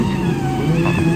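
A drift car engine warms up at idle, a steady low rumble with a faint whine running through it, close and loud, with no voices.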